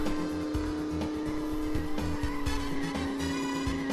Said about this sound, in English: I'm squealing too much here.